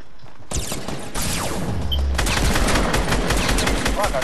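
Gunfire in Fortnite Season 7 squad play, including a hand cannon: loud, rapid bursts of shots crowd the whole stretch after a brief quiet start, dense and continuous with overlapping reports.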